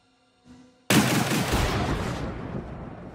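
A Hammerhead corvette's laser turret in Star Citizen fires one loud blast after a faint mechanical click. A long, noisy roar follows and fades slowly over about two seconds.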